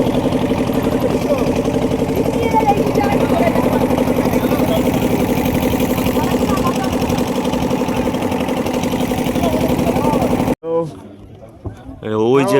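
A boat engine idles at a ferry ghat in the Sundarbans with a loud, steady, close drone under talking, then cuts off abruptly near the end, leaving quieter voices.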